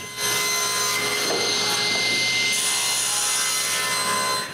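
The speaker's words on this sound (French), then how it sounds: "Ensuite, je coupe l'autre au banc de scie." A table saw whines steadily as it cuts through wood, a loud continuous buzzing drone with a slight shift in pitch partway through.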